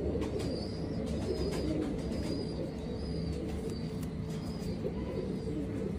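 Pigeons at a pigeon show coo in soft repeated calls at an even rhythm, heard over a dense, steady outdoor rumble and murmur.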